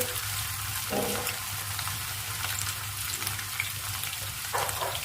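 Mackerel tail frying in oil: a continuous soft bubbling sizzle with a few brief scraping or spattering bursts, close and moderately quiet, with no talking.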